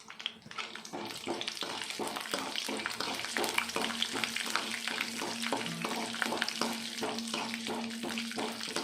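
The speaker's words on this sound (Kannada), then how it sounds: "ಕಡಲೆಬೇಳೆ ಸ್ವಲ್ಪ ಫ್ರೈ ಆದ ನಂತರ 1 ಸ್ಪೂನ್ ಉದ್ದಿನಬೇಳೆ ಹಾಕ್ಕೊಂಡು" Chana dal and urad dal fry in a pan, sizzling and crackling steadily at close range, with rapid rhythmic scraping of a spoon stirring through the whole stretch and no talk.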